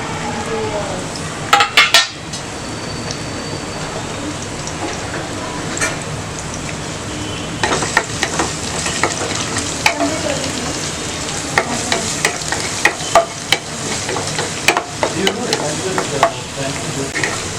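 Ginger, garlic and three green chillies frying in hot oil left over from frying chicken, giving a loud continuous sizzle with frequent spoon scrapes and clinks against the pan, close up.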